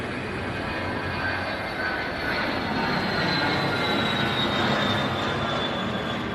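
A Dassault Falcon 2000 business jet arriving and departing at Scottsdale roars with a loud, steady engine rush and a high turbine whine, holding constant throughout with no talk.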